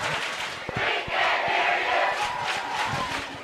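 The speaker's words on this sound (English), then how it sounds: "You hear that crowd sensing the moment, trying to cheer on the Redhawks." A high school football crowd in the stands cheers steadily for the Redhawks during a Herriman vs. Bountiful game, a continuous roar of many voices with scattered shouts rising and falling without pause.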